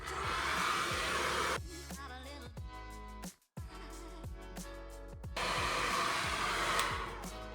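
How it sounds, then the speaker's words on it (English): A hair dryer fitted with a diffuser attachment blows loudly and steadily, its roar dropping in level midway, cutting out briefly, then returning at full strength. "you can put the diffuser back on them to get more volume"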